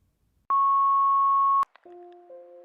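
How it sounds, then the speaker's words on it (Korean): A sharp, single electronic tone sounds for about a second and cuts off abruptly, followed by a brief click and a lower two-pitch electronic tone, a clean synthetic telephone signal in silence. "집 밖으로 나가려는 순간 전화벨이 울린다."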